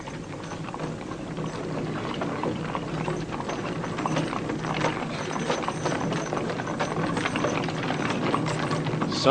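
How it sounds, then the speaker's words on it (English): A horse-drawn carriage, heard as a continuous busy clatter of hooves and rattling wheels, fairly close and steady throughout, with no voices. "It was a horse-drawn carriage."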